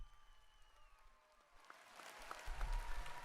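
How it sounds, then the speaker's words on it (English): Applause from a D&D subclass review show's audience begins faintly under fading tonal sounds, then swells into a fuller spread of clapping over the last second and a half. "Let's give them a round of applause."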